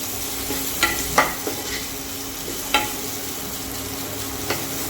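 Grated coconut being lightly sautéed in a pan for fish curry, a steady faint sizzle with a few sharp scrapes and taps of stirring, close by, no talk.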